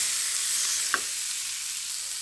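Sliced potatoes fry in oil with a little turmeric, giving an even, close sizzle with one brief clink of a spatula partway through.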